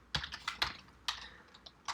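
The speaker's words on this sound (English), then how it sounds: "you can just randomly typing code" Someone types code on a computer keyboard, a run of crisp, close key clicks in uneven bursts with short pauses between them.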